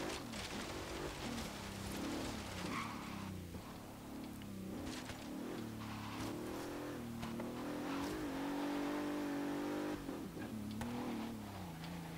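A 2013 Bentley Continental GT Speed engine drives an autocross course in the Forza racing game, its tone rising and falling through revs and gear changes, fairly faint and continuous throughout.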